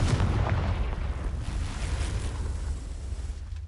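Confringo explosion spell cast in Hogwarts Legacy, a loud rumbling blast that decays into a long roaring, windy wash of noise with no talking.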